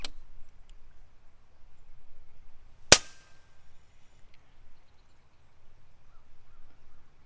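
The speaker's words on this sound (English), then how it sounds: "I'm gonna shoot at the target first, so I'll shoot at the target first, see what the wind drift is" A single sharp crack from an FX Hybrid air rifle firing a .30 caliber slug at a target outdoors, loud and isolated against near silence.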